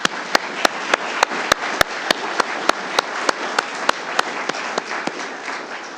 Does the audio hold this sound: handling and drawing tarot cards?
no